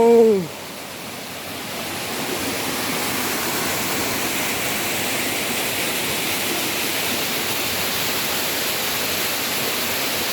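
Steady, broadband rushing of the Kumaradhara River flowing near Kumara Parvatha, continuing evenly throughout, close and fairly loud, with a brief voice at the very start.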